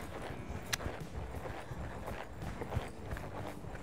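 Faint rhythmic hoofbeats of a horse trotting on soft ground, steady and regular, with a couple of sharper thuds.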